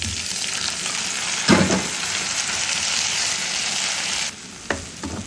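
Cabbage stir-fry sizzles loudly with onion in a hot pan, a steady dense crackle of frying broken by a couple of brief scraping stirs.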